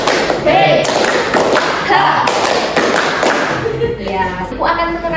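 A group in a classroom counseling session claps hands together in a counted rhythm-game pattern, several sharp, close claps spaced in short bursts while voices talk.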